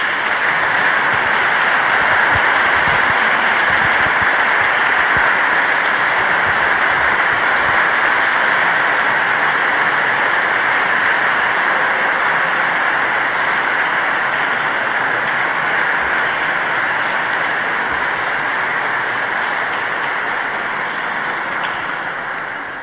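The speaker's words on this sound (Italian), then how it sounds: "Facciamo un bel applauso a questi giovani sposi." Wedding guests applaud the newlyweds Fabio and Caterina at a church ceremony, a steady, dense wash of clapping that fills a reverberant space and holds at an even level for over twenty seconds before tapering slightly at the end.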